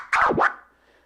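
A DJ baby scratch on a vinyl record with the crossfader open: one quick back-and-forth scratch, a rising and falling swoosh, close and alone, then a fading tail.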